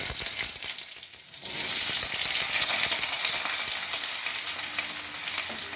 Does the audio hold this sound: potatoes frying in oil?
yes